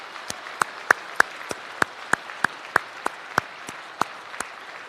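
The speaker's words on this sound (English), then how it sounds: "you can give an extra round of applause for Clifton Daniel" An audience at a Freemasons' Founders' Day event claps in a thin, sparse round of applause, with distinct individual claps spaced fairly evenly and heard fairly close.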